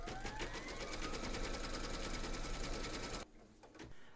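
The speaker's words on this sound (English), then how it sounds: "pop your hoop in and stitch round number 6" Embroidery machine stitching an in-the-hoop teddy and unicorn bag, a fast steady mechanical needle rhythm running loud and close before stopping abruptly near the end, leaving faint clicks.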